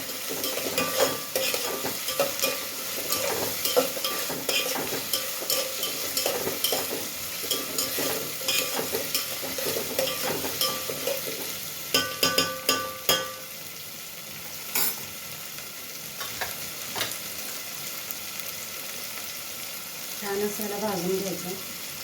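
A medium tomato is stirred and fried in a pan for a traditional Bhogi vegetable dish: a steady close sizzle broken by repeated scraping and clinking stirs, with a brief softer stretch near the end.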